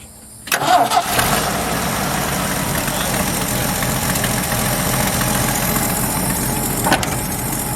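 1977 Ford wrecker tow truck, long left to rot, cranks briefly, catches and settles into a steady, loud, rough idle, with a faint clank near the end.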